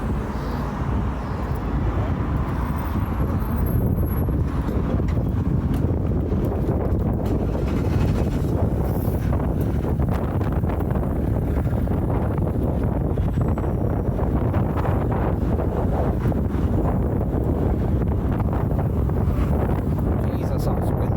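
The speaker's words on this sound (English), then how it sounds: "Jesus, that's windy. Sorry about the wind." Strong wind blows during an outdoor walk in the rain, steady loud buffeting rumble across the microphone throughout, with people talking faintly underneath.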